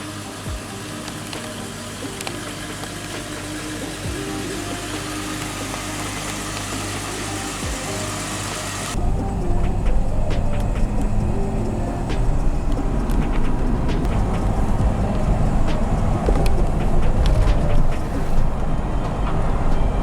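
2017 Jeep Wrangler with a Rough Country CV front driveshaft idling steadily, then a sharp jump in low engine rumble as it pulls away and keeps driving, loud and close, with no talk.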